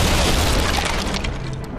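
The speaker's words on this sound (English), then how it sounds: "The mortars!" Mortars fire in Fable III with a loud, heavy boom and crashing debris that fill the whole stretch, sustained and close with no pause.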